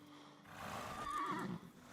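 A horse in the medieval village-building video game Medieval Dynasty lets out a short, fairly faint whinny with a rising, quavering call and a light clip-clop beneath it.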